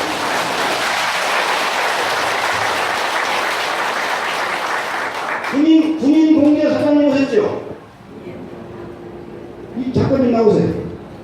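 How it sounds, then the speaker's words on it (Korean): Steady applause from a crowd at a Seniors' Day event in Dong-gu, Daejeon fills the first half, then someone speaks over a PA, with brief clapping returning near the end. "박수 한번 주시기 바랍니다"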